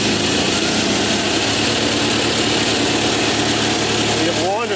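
A Kohler Magnum 20 hp engine runs on a Simplicity Sunstar garden tractor while the choke is worked, giving a loud, close, steady chugging drone that slightly shifts in pitch near the end, with someone talking over it.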